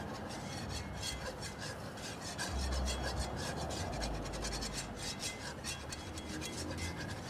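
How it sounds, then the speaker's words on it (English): Butter and flour roux whisked in a pan on the stove, a steady scraping and rasping of the whisk against the pan bottom, close and continuous with no talking. "So we'll add to the butter 3 tablespoons of flour and whisk this together and start to cook down our roux."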